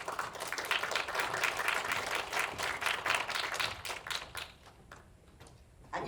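An indoor audience at a local community talk event in Nowon claps steadily for a resident speaker coming to the stage, a dense, even patter that thins out toward the end with a few scattered claps.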